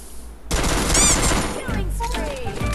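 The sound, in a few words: UMP gunfire in a video game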